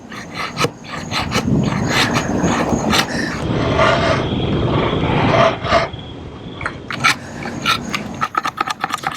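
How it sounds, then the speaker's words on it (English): A TOPS SXB Skullcrusher knife carving feathers in sticky fatwood: loud, close scraping and rasping strokes, with a dense stretch in the middle and sharp ticks and clicks before and after. "Let's see how the old fat wood carves."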